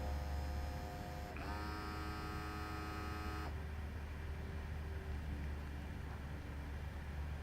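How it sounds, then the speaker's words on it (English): A Q6000 FDM lab instrument purges its inlet between samples, a quiet steady machine hum with a brief rising whine in the middle that stops abruptly, leaving low background hum. "So now it's purging so that it's ready for the next sample."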